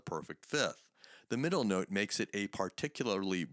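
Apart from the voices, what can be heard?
No distinct noise like a dog, phone or traffic.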